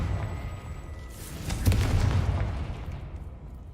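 A Confringo fire spell explodes in the video game Hogwarts Legacy, a loud booming blast that swells suddenly and rumbles on, followed by a fainter second burst and a lingering roar.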